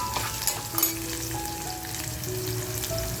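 Beetroot pieces drop into a hot frying pan for fish pav bhaji, setting off a continuous crackling sizzle with a few sharper spits and faint stirring scrapes.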